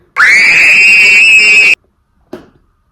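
A person imitates the Peppa Pig scream with one loud, sustained, high-pitched shriek of about a second and a half that cuts off abruptly, followed by a brief faint sound.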